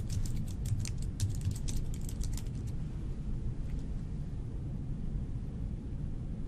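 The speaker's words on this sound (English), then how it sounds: "she finishes what she was typing in." Rapid keystrokes tap on a computer keyboard in the first few seconds, a close clicking flurry over a steady room hum, then only sparse taps remain.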